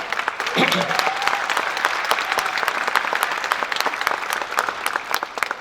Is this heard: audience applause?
yes